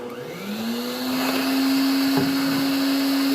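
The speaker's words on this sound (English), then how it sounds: "I'm going to turn on my vacuum." A vacuum cleaner runs steadily close by in a teardrop camper galley being built, its motor humming loudly with a rising whine that holds at a constant pitch.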